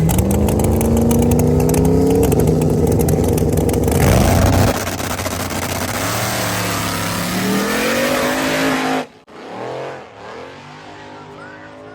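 Outlaw small tire drag cars, a ProCharger Ford against a turbo Chevrolet at Muncie Dragway, roar down the strip with loud screaming engines rising in pitch, then cut off sharply, leaving a brief distant tail of noise.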